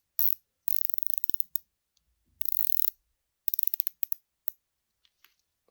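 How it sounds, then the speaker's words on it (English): The bezel on a Sacred Crafts Dark Seas carbon dive watch ratchets in short bursts of crisp, close clicks, separated by silent pauses, with a few isolated ticks at the end and no voices. "Oh, that bezel sounds pretty nice."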